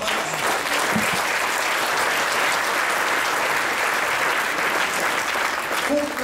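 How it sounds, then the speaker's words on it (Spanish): A church congregation applauds in one sustained, dense burst of clapping that fills the whole stretch, loud and close, with a faint murmur of voices mixed in. "Denle ese aplauso a Cristo"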